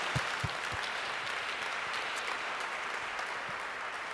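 Moderate, even applause from an audience at a university chapel commemoration event, a continuous patter of many hands heard from a middle distance.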